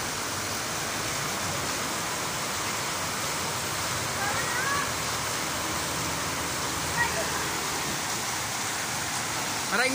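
A downpour of heavy rain keeps up a constant, loud rushing hiss. A few faint, brief sounds rise above the steady wash now and then.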